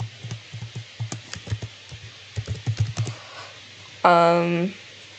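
A folder name is typed on a computer keyboard in quick, close bursts of key clicks with short pauses between them. A brief voiced tone follows near the end.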